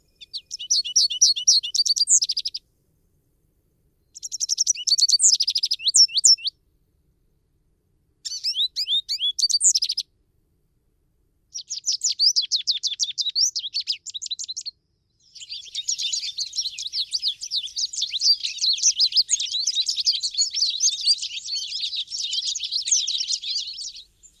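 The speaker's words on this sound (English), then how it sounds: "And you'll hear this potato chip, potato chip. American Goldfinch" An American Goldfinch sings high, bright twittering phrases mixed with its bouncy potato-chip call, coming in five separate bursts with short silent gaps between them. The last run is the longest and most continuous.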